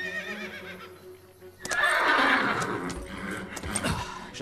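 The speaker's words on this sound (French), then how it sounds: "Il y a un cheval blessé à la manade Cavaletti." An injured, panicked horse at a ranch lets out a loud, shrill whinny that breaks in suddenly and trails off in shaky, wavering cries, with some scuffling nearby.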